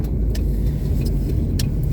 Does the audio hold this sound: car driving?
yes